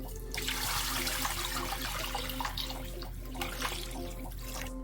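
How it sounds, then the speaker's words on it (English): Water poured into a slow cooker holding a chicken drumstick, a continuous splashing, gurgling stream running steadily near the microphone under a low background hum. "I'm just gonna go ahead and add in 7 cups of water"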